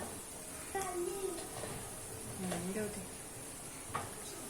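Turmeric, red chilli and garam masala are stirred into hot oil for shev bhaji, giving a soft continuous sizzle with occasional spoon scrapes and clinks against the pan, while a voice and someone talk faintly in the background.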